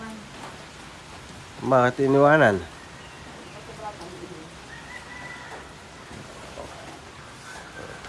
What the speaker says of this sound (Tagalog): Ang lamig sa probinsya, umuulan.